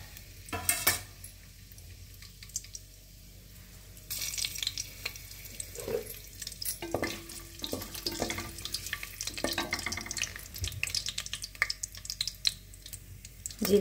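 Whole spices and cumin frying in oil in a pan, with cinnamon, cloves, star anise, bay leaves, green and black cardamom among them. The sizzle starts soft, turns steady and louder partway through, and is broken by scrapes and clinks from a utensil.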